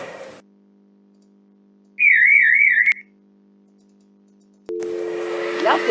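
An elevator bell chime sounds once as a single warbling electronic tone lasting about a second, set against a quiet hum, with machinery noise returning afterward.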